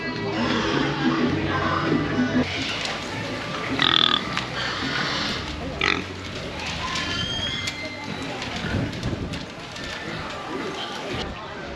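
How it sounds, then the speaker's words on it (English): A pink pig grunts and oinks in the livestock barn at a county fair, its grunts mixed with crowd noise while a person talks nearby. "Here we have your standard Hollywood pink pig."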